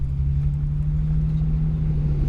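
Bentley Continental GTC on the road gives a steady low engine drone with a constant hum, smooth and unbroken throughout, no voices.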